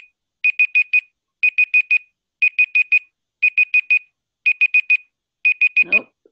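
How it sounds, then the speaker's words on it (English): A Google timer alarm ringing, loud repeating groups of four quick electronic beeps in a steady rhythm, six bursts in a row, ending with a short voice sound at the close. "I set that Google timer and I don't know how to turn this off."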